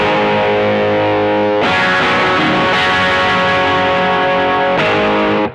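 Distorted Yamaha Revstar RS502 P90 electric guitar with its filter switched off, loud close chords struck a few times and left ringing, no voices.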